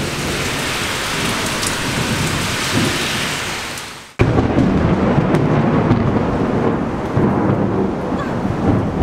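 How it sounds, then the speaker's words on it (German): Heavy thunderstorm rain pours down in Rome, a dense steady roar that breaks off briefly midway, then returns with rumbling thunder beneath the downpour. No voices. "Ist jetzt auch noch stürmisch, es blitzt und donnert."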